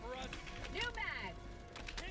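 Magazine reload in Helldivers 2: a short run of mechanical clicks and ratcheting metal clacks, close and fairly quiet, with a voice speaking over it.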